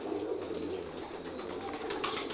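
Pigeons coo softly in low, rolling murmurs, a faint repeated burbling set against quiet background hiss, with no voices.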